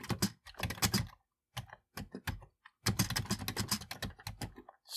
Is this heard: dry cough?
no